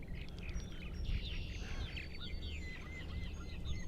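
Purple martins on eastern Long Island, New York, chatter and chirp in a steady stream of overlapping liquid calls, faint and somewhat distant over a low background rumble.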